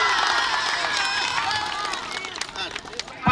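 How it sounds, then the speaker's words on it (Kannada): Loud, dense applause and cheering from a school audience at an English-medium school function, right after a ribbon-cutting, a steady roar of clapping and crowd voices throughout. "ಜೋರಾಗಿ ಕೈ ಚಪ್ಪಾಳೆ."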